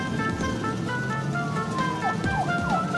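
A cartoon ambulance siren wails repeatedly over a running car engine, with rising and falling tones sweeping across a busy road scene.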